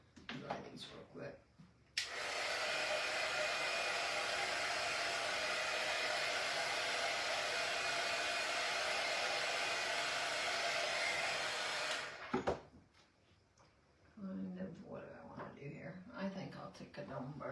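A hair dryer blows air to dry craft ink on a fall door hanger, a loud steady whoosh running for about ten seconds with an abrupt start and stop, with soft speech before and after it.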